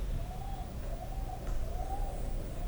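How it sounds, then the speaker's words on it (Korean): An owl hoots softly in the distance, a few low, drawn-out calls repeating over a steady background hiss. "부엉이 울음소리였는지"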